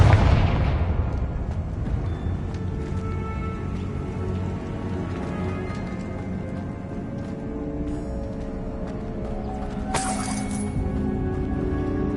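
Bombarda and Confringo spells blasting in Hogwarts Legacy: a sharp explosive burst at the start decays into a long ringing rumble, with a brief crackling flash of debris near the end.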